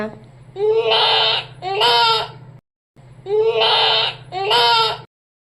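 Someone imitates a goat's bleat, giving two quavering baa cries, then repeating the pair after a short silence; close and fairly loud.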